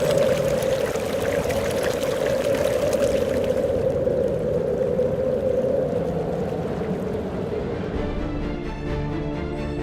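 The Spiti river gurgling and rushing in the high Himalayan valley near Kaza, a continuous loud flowing-water roar that stays steady throughout and thins out slightly toward the end.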